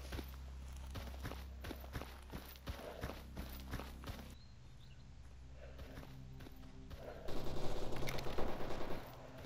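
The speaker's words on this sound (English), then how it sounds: "Okay, we instantly met with gunfire." Bursts of rapid gunfire and sharp shots in the video game S.T.A.L.K.E.R. Anomaly crackle through the first half, then quieter rumbling, followed by another loud rattling volley near the end.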